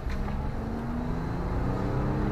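An Alfa Romeo Stelvio Quadrifoglio Q4 Tributo, driven in manual mode with steering-wheel paddles, gives a steady, throaty engine drone that rises gently in pitch, heard up close and loud with no talk over it.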